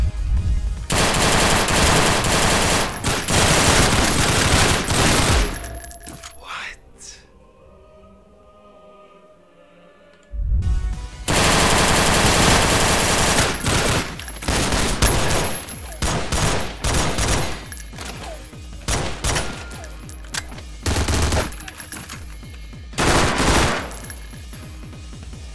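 Loud, rapid bursts of shotgun gunfire from the video game Madness Interactive Reloaded come in dense volleys, break off into a short lull, then resume in repeated heavy blasts.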